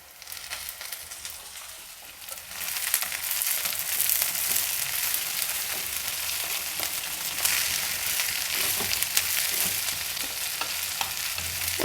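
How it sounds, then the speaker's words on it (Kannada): Boiled, drained field beans (avarekalu) fry in a tempering with well-browned onion, giving a loud, continuous sizzle with scraping stirs of a spoon in the pan throughout, and no voices. "ಒಂದು 2 ಸುತ್ತು ಈ ಥರ ಹುರಿದ್ರೆ ಸಾಕು."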